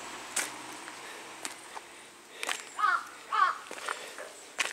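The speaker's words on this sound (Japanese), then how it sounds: "なんかえらい上でカラスがなんか文句言ってます。" Crows caw overhead along a hillside path at Chihaya-Akasaka castle ruins, two or three harsh calls mid-clip among scattered footsteps and light rustling, outdoors and fairly clear, with no voices.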